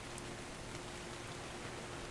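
Steady, soft rainfall in the video game ARK: Survival Evolved hisses evenly throughout, a quiet continuous patter with no voices.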